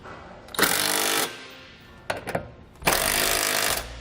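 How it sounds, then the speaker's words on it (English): A power tool with a 19mm socket runs in two long bursts and one short burst, tightening the trailer hitch bolts on a 2015 Toyota RAV4. Each burst is loud and close, with quieter gaps between them. "we can go ahead and tighten up the bolts using a 19mm socket"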